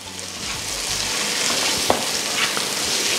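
Crushed ginger and garlic sizzle in hot oil with onions for a sardine roast, a steady close frying hiss with a few stirring scrapes and no voices.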